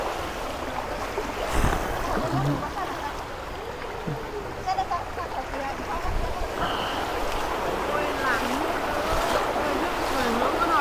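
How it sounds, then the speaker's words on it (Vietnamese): Floodwater from a stream swollen by Typhoon Yagi rushes and churns in a continuous loud roar, with occasional knocks and splashes breaking through the steady flow. "Con suối đổi hướng"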